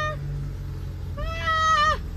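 A cat on Paxos, Greece, meows twice close by, a brief chirp first, then a longer, louder drawn-out meow that trails off.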